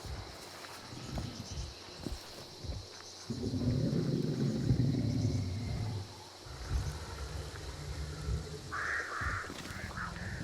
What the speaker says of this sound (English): Birdies? Those birds to my left.